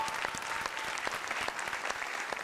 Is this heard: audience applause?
yes